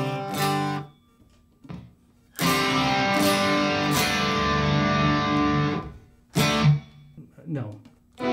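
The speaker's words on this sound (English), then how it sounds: "This is a clean sound." An electric guitar played through a 1980s multi-effects processor on its clean setting rings out in sustained chords, with a long held strum in the middle, while someone speaks before and after the playing.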